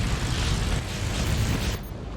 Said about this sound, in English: the smoke explodes on the core, so he can't put the core out